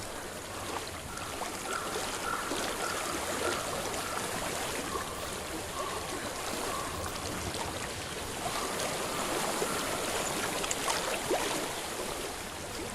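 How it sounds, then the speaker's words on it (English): Water rushes and burbles continuously like a flowing stream in the video game Hellblade: Senua's Sacrifice, a steady mid-level wash with faint intermittent tones behind it. "I hear water."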